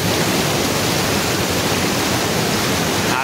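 Rushing water at Ghagra waterfall near Belpahari during monsoon, a steady, dense roar of falling water that stays loud and unbroken throughout, with no voices.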